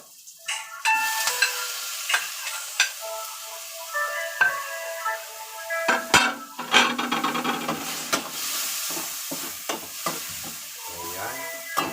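Onions, garlic and tomatoes fry in a pan for chicken calderita, sizzling under repeated scraping and knocking of a wooden spatula as they are stirred, close and uneven over several seconds.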